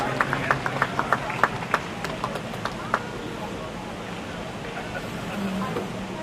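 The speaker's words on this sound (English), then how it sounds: "Let's give them all one more wonderful round of applause." Scattered, fairly regular claps from a small part of the crowd at a Holstein dairy cattle show at the Minnesota State Fair, sharp at first and then thinning out by midway, over a steady murmur of the show ring.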